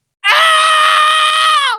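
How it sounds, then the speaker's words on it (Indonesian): A single panicked scream, a loud sustained high-pitched shriek lasting about a second and a half, alone and close, with a steady tone that drops slightly at the end. "menjerit panik"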